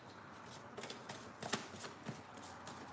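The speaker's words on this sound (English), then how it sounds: "There's too many cards to shuffle." Rapid riffling and flicking of playing cards being shuffled, several crisp bursts close by with short pauses between, no voices.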